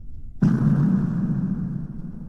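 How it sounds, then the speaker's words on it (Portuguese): A sudden deep explosion in an ocean horror tale hits hard and then rolls into a sustained low rumble that fades slowly, standing alone and loud. "Outra explosão ocorreu e sacudiu nosso navio até o núcleo"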